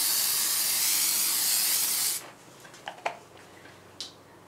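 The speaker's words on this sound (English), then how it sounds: "I'll go ahead and spray this dish." A loud continuous cooking spray hisses onto a dish for about two seconds, then stops, followed by a few faint clicks and light knocks nearby.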